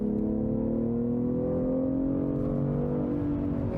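BMW M340i accelerating on a motorway to overtake a truck, its engine note rising smoothly and steadily in pitch from inside the cabin, loud and continuous with no talk.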